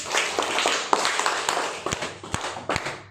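An audience of schoolchildren and teachers claps after a recited prayer poem, a dense spatter of hand claps that fills the room at moderate loudness with sharper individual slaps rising above the texture.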